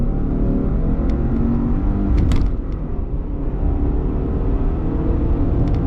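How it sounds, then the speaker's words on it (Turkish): A 2022 Subaru Outback accelerating on a road, its engine and road noise rumbling loud and steady from inside the cabin, with a few faint clicks and no talk. "Bir de hızlandıralım aracı."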